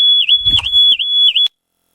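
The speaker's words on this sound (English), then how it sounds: "My alarm has started because it detected that we are inside." An Audi RS3 car alarm, triggered by people inside the car, beeps in a loud, piercing, steady high-pitched pulse, four quick repeated tones that cut off abruptly.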